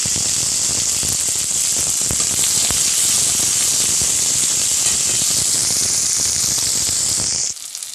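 Onion and garlic fry in oil with a steady, loud, hissing sizzle and scattered crackles that run for several seconds before cutting off abruptly near the end.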